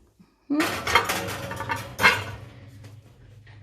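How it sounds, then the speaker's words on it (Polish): A covered pot holding bread dough set into an oven, with a metallic clank of the pot and rack, a second heavier clunk, then a quiet hum of the oven. "I tak przygotowany chleb wstawiamy do piekarnika."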